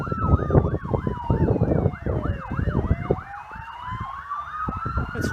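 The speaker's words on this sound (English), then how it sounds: "Let's watch the ambulance go past." An ambulance siren wails in a repeating rising-and-falling pattern, loud and close, its pitch dropping as it passes amid steady road traffic.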